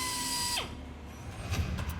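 A power drill whirs as inner gears drive the drill bit, its steady high whine dropping in pitch as the motor slows, followed by a rattling mechanical grind near the end.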